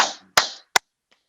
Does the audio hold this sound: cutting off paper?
no